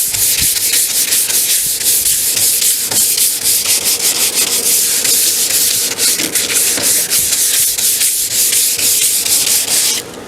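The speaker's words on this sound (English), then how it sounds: "Hand sanding is important" Steady, close, loud hand sanding of cedar wood with the grain, a continuous rough rasping with quick back-and-forth strokes lasting the whole stretch, no voices.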